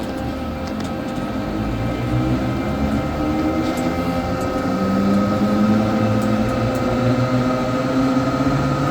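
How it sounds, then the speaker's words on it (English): A Zero Gravity amusement ride starts up and begins spinning during an inspection, producing a loud continuous mechanical hum and motor whine that rises slowly in pitch as it gains speed. "The ride does activate, and we're going to give it a whirl."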